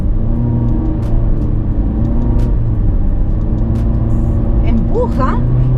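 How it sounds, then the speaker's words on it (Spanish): A 2022 Honda City Sport gives a continuous low engine rumble from inside the cabin as it pulls, while someone talks over it. "ahora vamos a probar la aceleración"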